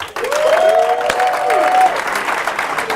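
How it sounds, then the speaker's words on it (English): Loud, steady applause from a large audience at a startup weekend pitch event, dense continuous clapping with a brief whistle-like tone above it and crowd noise throughout. "Please give a very big round of applause for Epicenter!"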